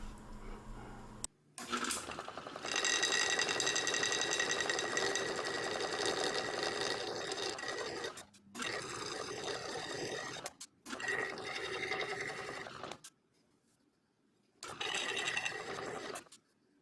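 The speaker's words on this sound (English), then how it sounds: "It takes a little while to grind the stone off as you would expect" A rotary tool grinds a stone inlay flush on a wooden ring, a loud high whine broken into several bursts with short silent pauses between passes and no talk.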